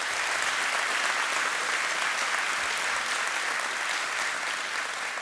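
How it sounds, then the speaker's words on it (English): A graduation audience at a BLET Class 79 ceremony gives an extra round of applause for two people at their last graduation before retirement, a full, even wash of clapping sustained throughout. "so an extra round of applause for both of them"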